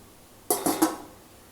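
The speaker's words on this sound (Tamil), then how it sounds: "இப்போ இதை ஒரு மூடி போட்டு நம்ம வேக வச்சிடலாம்." A metal lid clanks onto a cooking pot of gooseberries for pickle in three quick, close knocks, then silence.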